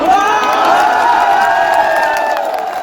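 Huge crowd at Mayawati's political rally at the Kanshi Ram memorial in Lucknow: a loud, sustained roar of cheering voices with high shouts rising and falling over a few seconds.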